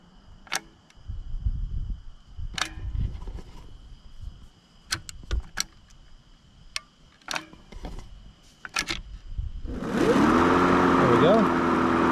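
A Ryobi push lawn mower is started; scattered clicks and knocks precede the engine catching, then it runs with a loud, steady drone that rises and settles.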